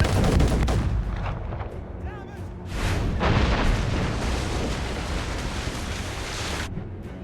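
Mortars fire in Assassin's Creed Rogue as repeated heavy booms and blasts rumble over steady wind and sea noise. The barrage is loud and dense, with a short lull partway through.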